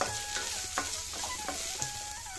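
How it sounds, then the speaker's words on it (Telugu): Thinly sliced small onions frying in a pan with a steady, close sizzle and crackle, punctuated by light stirring scrapes and clicks, with no talking. "ఇదే ప్యాన్లో సన్నగా కట్ చేసుకున్న చిన్న ఉల్లిపాయలు ఒక మూడు వేసుకుంటాను పెద్దవైతే ఒక రెండు కలుపుతాం ఇవి కూడా కొంచెం వేగనిద్దాం"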